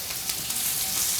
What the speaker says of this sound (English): I have some onions, which we're going to saute, together with some garlic and parsley.